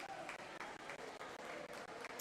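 Spectators clap for a swimmer finishing the 500-yard freestyle at a varsity swim meet, steady applause echoing in an indoor pool, heard fairly faint and at a distance, broken by a few brief dips.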